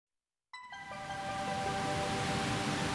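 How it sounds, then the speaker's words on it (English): Pink noise starts abruptly after half a second of silence and then holds as a steady, even hiss, with a few faint ringing tones fading in and out beneath it. "and that is pink noise."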